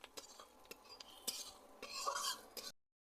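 A spoon stirs mango pickle with turmeric and whole fennel in a pan, giving scattered scraping and clinking taps with a brief busier stretch near the end, fairly quiet, then silence.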